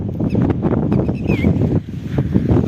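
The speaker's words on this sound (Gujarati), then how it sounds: "પવન વરસાદ તો આજે તો બહુ સંભળાય છે" Strong wind with rain roaring and buffeting the microphone in a continuous, loud rush, with a brief faint whistle, in Kutch, Gujarat.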